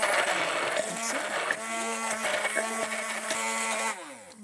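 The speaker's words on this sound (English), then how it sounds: "the blender will finish it off to make a nice paste" An electric blender purées soft cooked rhubarb into a paste in a kitchen, a steady whirring motor drone with a rising pitch change near the end, loud and close throughout.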